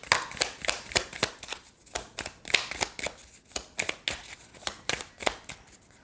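Tarot cards being shuffled by hand for a reading, a fast, close run of crisp riffling slaps and flicks in an uneven rhythm, heard alone with no talking.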